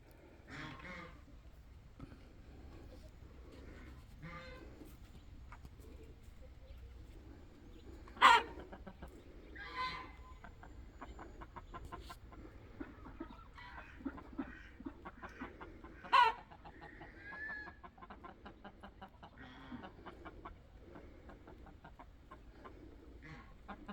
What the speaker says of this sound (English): There's the other new rooster.